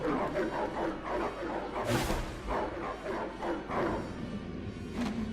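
Dogs barking repeatedly in Lego Harry Potter Years 1-4, a steady run of yaps and bow-wows close up, mixed with game sounds and a voice talking over them.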